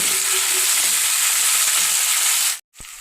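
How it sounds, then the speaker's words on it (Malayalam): Tomatoes, ginger and garlic sauté in a pan for a fish-head curry, giving a steady, loud sizzle and fry close up that runs for most of the moment, then cuts out abruptly near the end before a faint return. "ഇനി നമുക്ക് തക്കാളി ഇട്ട് കൊടുക്കാം ഇതെല്ലാം കൂടി നന്നായിട്ടൊന്ന് വഴന്ന് വരണം കേട്ടോ"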